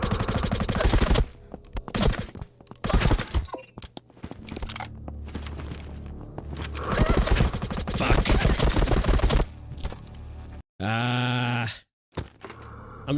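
Video game gunfire crackles in dense bursts and rapid volleys, loud and close, broken by short pauses, with a sustained whine-like tone near the end.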